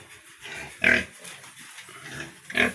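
Crossbred piglets from AI and a brown boar grunt and squeal close by, with a few short bursts of oinking, two sharp squeals standing out among softer grunts.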